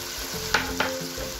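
Tomatoes go into a pan of cooking chicken over high flame for a spicy biryani, hissing in a steady sizzle with two quick stirring scrapes near the middle, heard alone up close.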